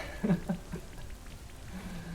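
Rain pours down from the Rain Dance move in a Pokémon video game battle, used by Barraskewda. A few soft low thumps open it, then a steady hiss of rainfall runs to the end.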